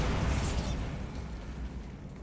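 Bombarda spell explosion in the video game Hogwarts Legacy: a sharp, loud blast at the start that fades into a lingering rumbling tail, with no talking.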